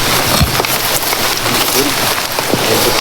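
Steady rain falls across the whole stretch, a dense even hiss on an outdoor surface with faint scattered knocks beneath it.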